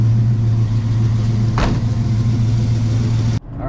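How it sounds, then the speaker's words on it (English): A 1939 Chevrolet Master Deluxe cruising on the road, its engine giving a steady, loud low drone from inside the car with a brief swell partway through before the sound cuts off near the end. "Alrighty, guys, so we're cruising in the 39 Chevy."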